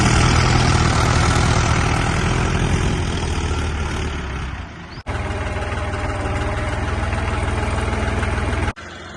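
A 4x4 Jaguar-style farm tractor idles steadily with a trolley attached on a dairy farm, its low diesel rumble loud and close, running continuously with two brief dropouts near the middle and end.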